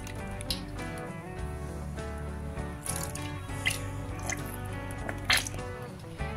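Fresh cream being stirred into a chicken gravy for Afghani chicken, producing close, wet squishing and dripping sounds in a steady, irregular rhythm.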